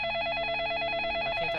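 A telephone rings in the video game Facade, a steady electronic warble of repeating tones that runs loud and continuous before cutting off abruptly near the end.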